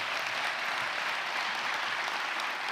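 A university alumni awards ceremony audience gives a dense, even round of applause, continuous and unbroken from start to finish.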